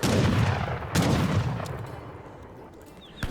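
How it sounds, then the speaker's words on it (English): A town center fires its guns at an enemy explorer in Age of Empires 3, sharp gunshot cracks and a thudding volley amid melee clatter, with a few fainter distant shots trailing off. "The town center is, of course, firing, getting some minor damage onto the Explorer."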